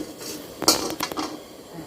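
A few metallic clanks and clinks of a pan being set down and shifted, close by and brief.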